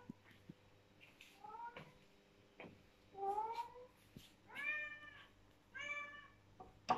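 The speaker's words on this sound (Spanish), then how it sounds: "Aquí tengo a mi gatito llamándome porque quiere comer." A pet cat meows repeatedly to be fed, several rising drawn-out calls spaced through a quiet room, fairly close, with a few small household knocks in between.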